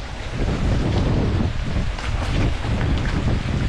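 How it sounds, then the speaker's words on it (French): A loud, steady rush of a waterfall pouring over the road on Bolivia's Death Road near La Paz roars close by, broad and unbroken, with no voices. "Cascade."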